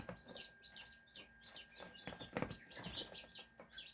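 A six-week-old Serama rooster chick makes a thin, high crowing attempt among repeated short chirps and clucks, close and fairly quiet, with no talk.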